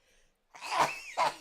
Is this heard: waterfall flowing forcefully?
no